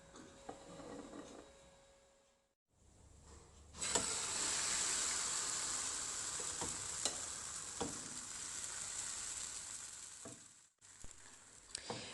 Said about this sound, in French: Je laisse la crêpe cuire à petit feu